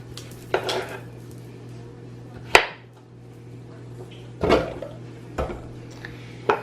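Pieces of cut squash drop into a pan for homemade baby food, making several short knocks and clatters spaced apart over a steady low hum, with no talking.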